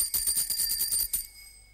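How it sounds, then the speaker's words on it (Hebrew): A bicycle bell rings in a rapid burst of bright metallic trills, about ten quick strikes in under a second and a half, then fades into a short lingering tone. "אני הבאתי לו פעמון של אופניים."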